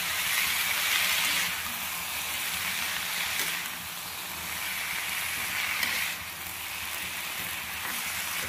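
Greens (shak) sizzle and hiss steadily in a frying pan while being stirred, a constant close crackle with slight swells as they are moved around.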